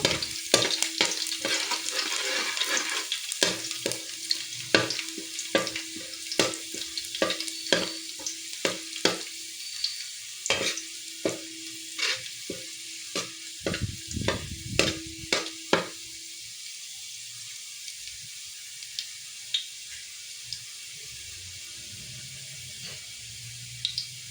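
Finely chopped garlic frying in hot oil in a pan, a bright crackling sizzle with rapid spatula scrapes and taps for most of the stretch, then settling into a quieter steady hiss, with no voices.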